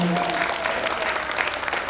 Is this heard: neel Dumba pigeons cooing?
no